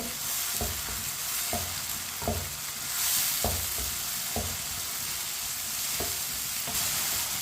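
Tomatoes fry in a pan with a steady sizzle while a spoon stirs them, scraping the metal in regular, evenly spaced strokes.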